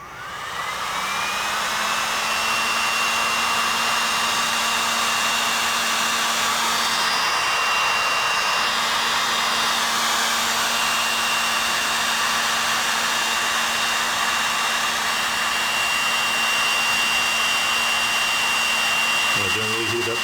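A heat gun blows continuously with a loud, steady whooshing roar and a faint whine while it shrinks glue-lined heat shrink tubing onto 1/0 gauge large wire. The tone stays even throughout and cuts off at the very end.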